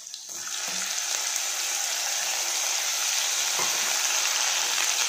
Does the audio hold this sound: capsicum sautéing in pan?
yes